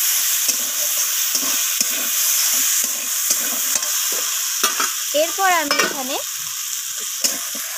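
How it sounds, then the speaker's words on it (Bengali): Masala for surmai fish curry, with a little sugar added, is stir-fried in oil in a pan: rhythmic scraping strokes over a constant sizzle, close and fairly loud, with a brief chirping squeak midway. "মশলাটা কষাতে কষাতেও তেল ছাড়তে শুরু করে দিয়েছে"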